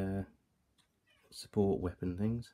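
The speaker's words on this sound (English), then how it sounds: "That's a cat meowing," A hungry cat meows for food indoors, one short call and then a pair of longer drawn-out meows, while someone talks over the sounds.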